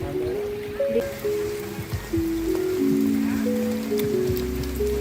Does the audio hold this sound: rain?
yes